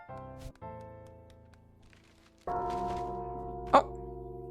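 A bell in a video game garden rings out with sustained tones, then a firmer strike midway sets off a louder, lingering ring, followed by one short, sharp accent near the end.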